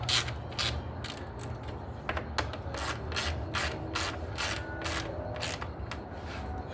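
A ratchet tightens the mounting bolts on a car's rebuilt alternator, producing steady rows of sharp clicks in regular strokes, close and moderately loud, with no talk.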